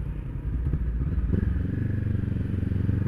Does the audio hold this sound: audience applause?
no